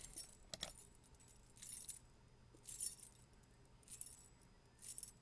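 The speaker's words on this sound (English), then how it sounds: "But I just recorded my keys" A bunch of keys, recorded as a sample for music production, jangles in five separate bright shaking bursts spaced about a second apart. The sound is quiet and close, with no other sounds around it.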